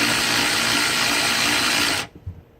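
A power tool drives in a Jeep Wrangler seat bolt with a loud, continuous whirring drone close by, then cuts off abruptly, followed by a couple of soft knocks.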